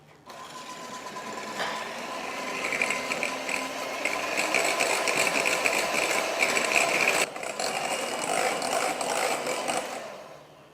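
An electric mixer whirs continuously as it whips three egg whites with sugar and cornstarch into a soft-peak meringue for a chocolate chiffon cake. The steady buzzing drone swells slightly, briefly dips, then fades out at the end.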